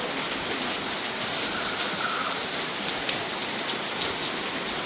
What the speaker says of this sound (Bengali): রাত ভরে বৃষ্টি হয়েছে ভালো আর সকালবেলাও এরকম বৃষ্টি